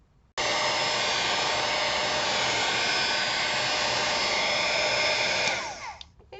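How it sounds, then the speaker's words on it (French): A hair dryer switches on abruptly and blows a steady, loud rushing whine to dry freshly sprayed acrylic spray paint on a card background, then cuts off and winds down near the end. "sinon, prenez un sèche-cheveux."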